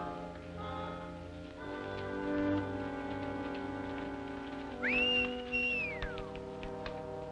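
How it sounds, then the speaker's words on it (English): One drawn-out whistle for a horse rises, holds steady, then slides down, sounding over quiet tonal background music. "Stop whistling for that horse."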